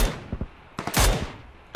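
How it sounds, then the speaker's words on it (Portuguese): Gunfire in the mobile-style shooter PUBG Lite: a few sharp separate shots, then a louder close burst near the middle and one more crack at the end, over steady game ambience. "Acertei dois tiros no cara, ele tá miado."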